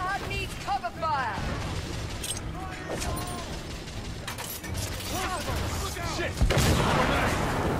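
Gunfire bursts and mechanical weapon clatter from a Victorian-era third-person shooter on a bridge firefight, with sharp cracks and whistling tones throughout, loud and busy, game voices shouting over the fighting.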